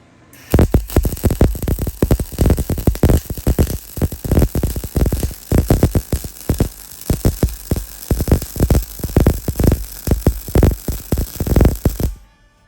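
Welding on a vehicle frame crackles in rapid, irregular bursts of loud broadband sizzle, arc strikes pulsing steadily over a background electrical hum, with no talking.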